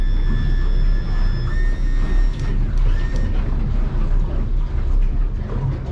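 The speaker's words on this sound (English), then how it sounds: "I'm going to go all the way down, trim the motor down." A Yamaha F300 outboard motor on a 2022 North River 25-foot boat is trimmed down. Its loud, continuous electric whine and hum sits close over a rumbling idle, with a brief higher tone shift partway through.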